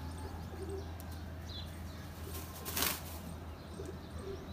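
Domestic pigeons coo softly at a rooftop pigeon-flying competition, the gentle calls faint over a steady low hum and background noise, with a brief brighter burst near the middle.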